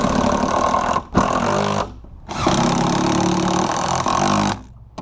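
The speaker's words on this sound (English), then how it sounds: "driving our long lags" A power driver whirs loudly in long bursts, driving long lag screws into a wooden gate post, pausing briefly between runs, with the motor's pitch labouring under load.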